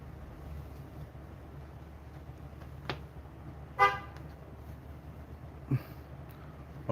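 A car horn gives a short honk in the distance outdoors, with a couple of fainter toots before and after over a steady low background rumble.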